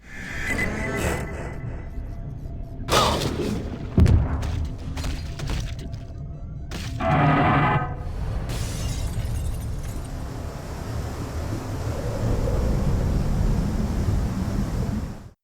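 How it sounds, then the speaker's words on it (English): In Team Fortress 2, a giant shark explodes and a glass ceiling shatters: a few sharp bursts and crashing impacts over a rushing, wave-like roar that continues and swells toward the end. "The shark explodes, causing the glass ceiling to break."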